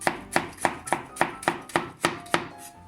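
Knife chopping potatoes finely on a cutting board, a steady run of about ten sharp, evenly spaced chops heard close up and alone in a kitchen.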